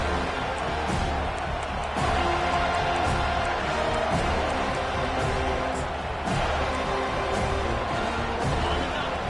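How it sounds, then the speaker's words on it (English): Stadium crowd noise in College Football 25, a steady loud roar of a packed crowd with cheering swells and scattered claps, continuous and dense across the whole stretch. "Decibels rising as the crowd gets behind this defense on 3rd down."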